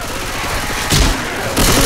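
Rapid gunfire in Left 4 Dead 2 on Xbox 360, a dense continuous stream of shots with two louder bursts breaking through partway and near the end.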